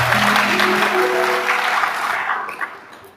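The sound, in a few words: applause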